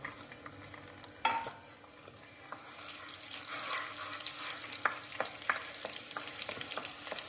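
Finely chopped garlic hits hot ghee in a pan for a prawn ghee roast, starting with a sharp clatter and then a steady, rising sizzle with small pops and stirring.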